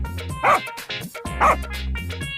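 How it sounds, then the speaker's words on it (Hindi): A dog barks loudly at a man in an animated Hindi story: two sharp, close, forceful bark bursts about a second apart, with whimpering, yipping tones between them. "कुत्ता सनकी लाल के पास जाकर जोर से भौंकने लगता है।"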